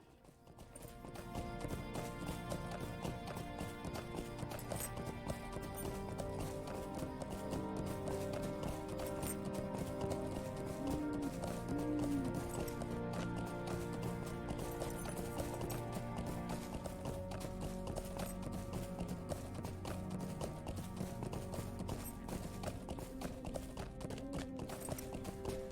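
A horse ridden in the online game LOTRO, galloping hooves in a steady clip-clop rhythm under a continuous bed of game music throughout.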